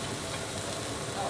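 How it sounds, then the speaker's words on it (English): Shrimp, squid, pork belly and onions sizzle in a pan for Vietnamese banh xeo, giving a soft, steady frying hiss throughout a short stretch. "Feel the sizzle."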